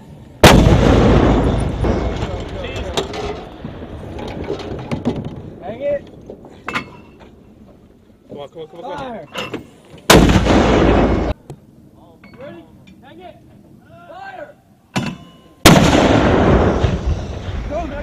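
Soldiers fire mortar rounds outdoors: a few heavy, loud booms spaced several seconds apart, each followed by a rumbling tail, with people talking and calling out between the blasts.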